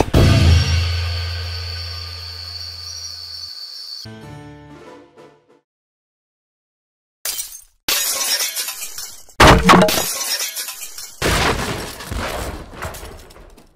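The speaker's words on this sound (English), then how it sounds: "It sounds like glass breaking again!" Glass shatters in the Minecraft video game, with a bright crash and tinkling debris, then a short silence before several more loud breaking bursts follow in quick succession.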